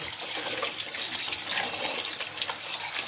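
Water runs steadily from a tap in a kitchen while goat intestine (ojri) is washed for cooking, a constant close gush and splash with no voices.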